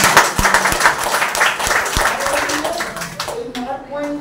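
An audience at a Tiens business sharing talk bursts into close, loud clapping that carries on for several seconds, with scattered voices mixed into the applause.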